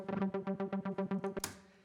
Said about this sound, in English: And you'll notice with the Posterity synth sound